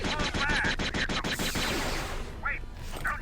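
Star Wars Jedi Knight 2: Jedi Outcast blaster fire erupts as a rapid, loud string of evenly spaced shots in the opening second and a half, then breaks off into quieter game sounds with a couple of brief electronic chirps.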